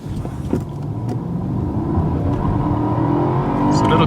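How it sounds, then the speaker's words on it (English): A luxury saloon accelerating hard during an acceleration test, its engine swelling from a low rumble into a loud, steady, rising roar heard from inside the cabin, with brief talk at the start. "So we are now going to do the acceleration test."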